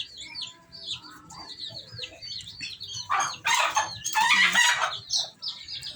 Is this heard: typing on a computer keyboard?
no